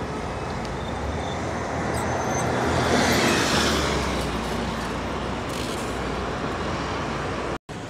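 Steady, dense city street traffic with buses in Deira, Dubai, a continuous roar of engines and tires passing nearby that swells midway and briefly cuts out near the end.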